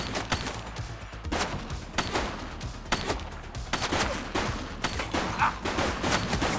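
Gunfire rings out in The Precinct, a police game: repeated loud shots spaced roughly every second or so, some in quick pairs, over a busy street backdrop.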